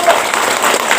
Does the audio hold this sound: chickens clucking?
no